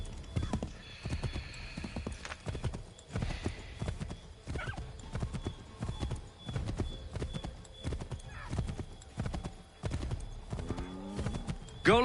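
In Assassin's Creed 3, a horse gallops with rapid, rhythmic hoofbeats close by, broken once by a whinny, over a low game ambience with no talk.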